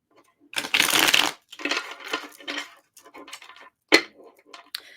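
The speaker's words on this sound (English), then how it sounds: "Just got to shuffle these 3 decks first" Three decks of tarot cards being shuffled nearby: a long riffling burst followed by several shorter shuffles and cuts with sharp card slaps, no talk.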